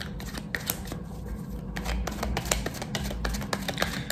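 Tarot cards are shuffled in a steady run of crisp riffling and flicking bursts over a low background hum, with no talking.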